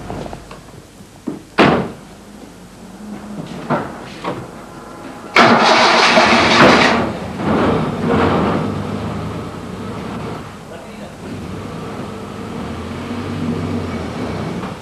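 Car engine starting in a domestic drama scene near a gate: a door thud, then a sharp crank that catches into a loud rev around mid-clip, settling to a steady idle that continues to the end, with no talk.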